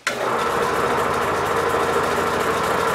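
A wood lathe spins a bowl jammed between centers, starting with a brief knock and then settling into a steady, loud mechanical whir and hum that runs unbroken.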